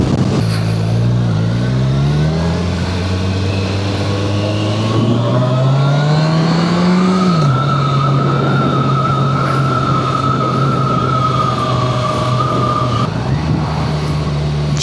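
A Kawasaki Ninja 1100SX motorcycle revs and accelerates in first gear, its engine note rising smoothly in pitch, dropping at a shift, then holding a steady loud drone, heard close with wind rush and no talking.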